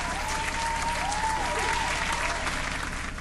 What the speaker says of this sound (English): You hear the applause?